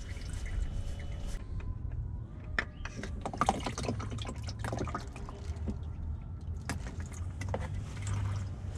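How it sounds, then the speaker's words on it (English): Engine oil drains from a Honda into a bag underneath, heard as faint steady trickling and dripping mixed with scattered clicks and handling noises, no talking. "Let it all drain out."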